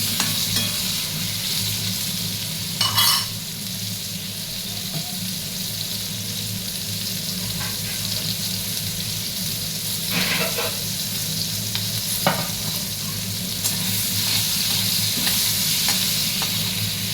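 Mango pieces sprinkled with a little salt are turned gently in a pan, a steady soft sizzle with occasional scraping strokes of the spoon, close and continuous with no talking.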